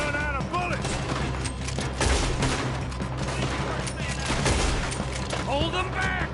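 Dense, continuous gunfire from a gunfight in the video game Red Dead Redemption II, with overlapping shots cracking steadily under shouted voices.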